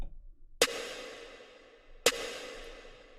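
Two crisp hits of a trap snare sample used in beat production, spaced roughly one and a half seconds apart, each snapping sharply and fading out over a second.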